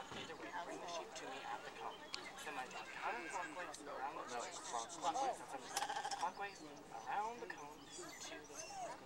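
Sheep bleating during herding by a two-year-old border collie in Strathmore, repeated wavering bleats from several animals at varied distances, mixed with people talking throughout.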